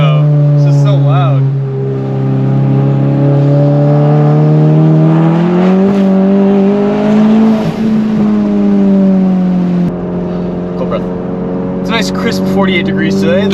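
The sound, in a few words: IS38 turbo VW GTI car doing rolling burnouts in rain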